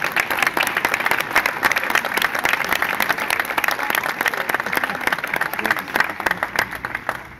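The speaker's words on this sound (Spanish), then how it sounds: "denos un aplauso al público." Dense, continuous audience applause at a brass quintet concert, many hands clapping at once, loud and sustained for several seconds with some crowd noise mixed in.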